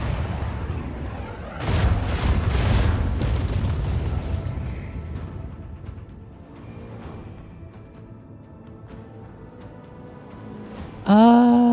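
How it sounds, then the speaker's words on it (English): Lance and torpedo fire in the video game Rogue Trader: a heavy run of booming blasts and rumbling impacts, loud at first, then settling into a lower rumble before a sharp rising tone bursts in at the end. "Using the lance and just the torpedoes."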